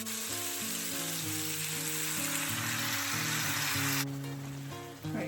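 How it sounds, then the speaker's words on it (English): Beef riblets stirred in chipotle salsa in a pot, with the bottom scraped for browned bits: constant close sizzling and bubbling with a scraping stir, under soft background music. "So I'm mixing everything in, and I'm also going in and scraping the bottom of the pot to get all of those brown bits"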